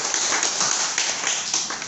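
An audience applauds in a presentation hall during a product introduction, steady dense clapping that holds for a couple of seconds without any voices.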